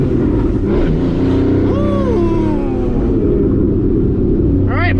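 A 2014 Porsche Cayman S accelerating hard in second gear, its engine roaring loud and close from inside the cabin as the pitch climbs and a gear change follows, with people speaking over the noise.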